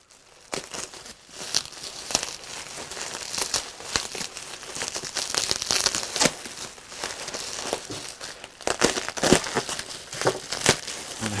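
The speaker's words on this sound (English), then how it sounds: "The only thing with bubble wrap is trying to figure out where it's taped together." Bubble wrap around a bought arcade board crinkles and tears as it is pulled apart while unwrapping: a continuous, close, uneven stream of crackling and rustling with sharper pops throughout.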